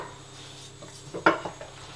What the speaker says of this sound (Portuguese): Levamos uma panela ao fogo, colocamos um pouco de azeite.